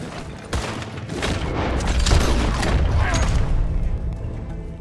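Loud shotgun blasts in Red Dead Redemption, several heavy booms within a few seconds over a dense, sustained background of game noise.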